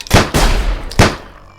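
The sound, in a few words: gunfire in the video game Sir, You Are Being Hunted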